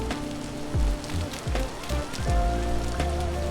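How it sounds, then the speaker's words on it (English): Heavy rain pours steadily in the Vintage Story video game, a loud continuous hiss broken by several low thuds and short tonal game sounds. "It's always raining now, man. And it's so loud."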